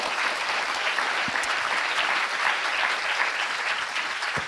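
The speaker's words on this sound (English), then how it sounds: "So a huge round of applause and a thank you." Audience applause at a Newton Berkeley talk with an AI research scientist, a steady sustained wash of clapping from a room full of people, moderately loud and uninterrupted for the whole stretch.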